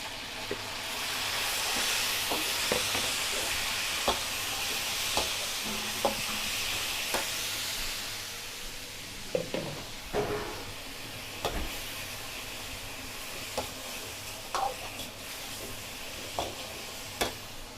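Beef going into a hot pot sizzles and hisses steadily, with stirring clatter and scattered utensil knocks throughout, fairly close and loud without any talk.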